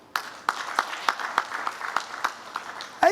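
An audience at a general assembly session claps in a loose, thin rhythm, scattered claps ringing through a hall, with a voice briefly heard at the very end.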